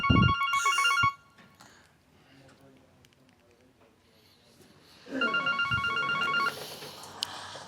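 A telephone rings in bursts of bright repeating electronic tones inside a vintage hi-fi repair shop, with two separate rings separated by a quieter gap, and people talking in between.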